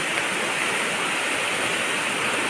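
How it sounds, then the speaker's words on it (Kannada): A loud, steady roar of rushing red, muddy floodwater, unbroken and close, with no other sounds. "ನೀರಿನ ಅವಾಜ್ ಕೇಳಿ ಹೆಂಗಿದೆ ಅಂತ"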